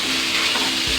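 Spices and ingredients frying for chana dal fry, a loud dense close sizzle with constant crackle and a low stirring rumble toward the end, no speech.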